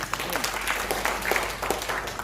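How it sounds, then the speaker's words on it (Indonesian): A church congregation at a Jakarta family blessing service claps for Jesus, a brief dense burst of applause with voices mixed in throughout. "Tepuk tangan bagi Yesus dulu."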